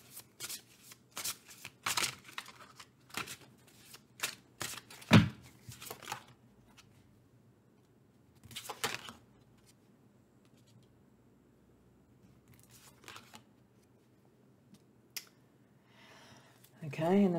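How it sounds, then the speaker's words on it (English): Playing cards are shuffled in several short, crisp riffling bursts, close and fairly quiet, separated by pauses and soft handling sounds. "I'm going to put that one down and then shuffle the rest."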